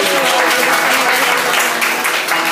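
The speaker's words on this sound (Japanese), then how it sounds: "拍手" An audience applauds a newly debuting sanshin performer, dense steady clapping sustained evenly throughout, close and fairly loud.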